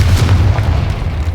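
A Confringo spell explosion erupts in Hogwarts Legacy as a close, heavy, booming rumble that holds steady for over a second, deep and dense with no pauses.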